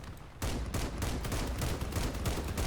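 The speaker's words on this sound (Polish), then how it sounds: "tam ktoś nas strzela z tyłu" Rapid, continuous gunfire from vehicles in the video game Crossout, a loud dense burst of shots starting abruptly and rattling on without pause.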